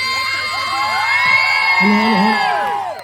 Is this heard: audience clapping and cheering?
yes